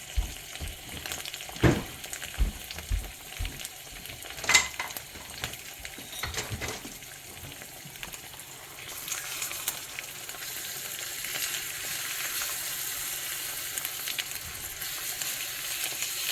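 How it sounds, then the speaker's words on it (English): Eggs fry in butter in a pan, a steady close sizzle rising in the second half, broken early by a few sharp clinks and taps of a utensil or shell against the pan. "Just gonna fry these up real fast."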